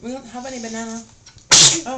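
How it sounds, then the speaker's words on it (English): A child sneezes once, a sudden loud burst of breath after a stretch of an adult's talk, followed by more talking. "You sneezed."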